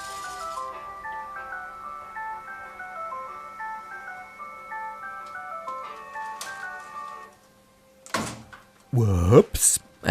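A laptop's CD drive tray is yanked open by a giant magnet, a sudden burst of clattering and a sharp snap near the end, following a soft chiming tune.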